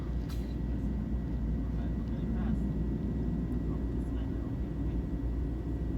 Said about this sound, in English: So taking off now with the world-famous Maho Beach behind us, runway 10 departure from St. Maarten